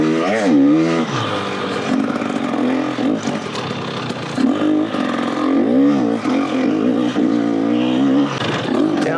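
A 2-stroke dirt bike rides a rough Arizona trail, its engine revving and dropping loud and close as the rider downshifts, with wind buffeting and a steady raspy drone throughout.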